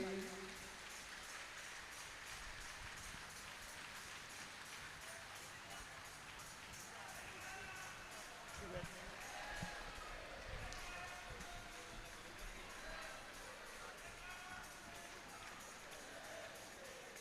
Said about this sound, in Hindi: तालियों की अनुगूंज लगातार चलना चाहिए